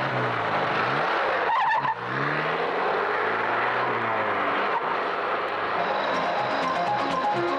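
A car speeds away in a chase on a road toward a highway, its engine roaring steadily and loudly with rising revs and a brief skid-like squeal, and no voices heard.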